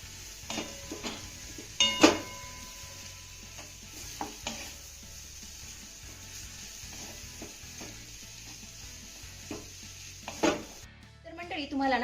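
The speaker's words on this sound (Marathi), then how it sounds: "आता हा बटाटा आपल्याला एक ते दोन मिनिटं चांगला परतून घ्यायचा आहे" Mashed potato being sautéed in a pan for an appe-pan snack, with scattered scraping and stirring clicks of a spoon against metal over a low, steady sizzle, a few sharper knocks standing out.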